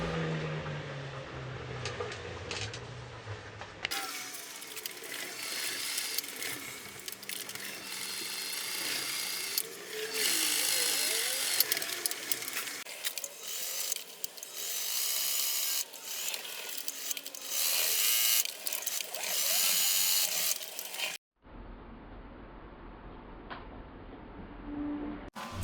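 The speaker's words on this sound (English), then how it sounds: "now for the part where we sew the Velcro on." Sewing machine stitching Velcro onto homemade pedal straps, bursts of loud, close whirring and rattling stitching with brief pauses, quieter fabric handling at the start and end.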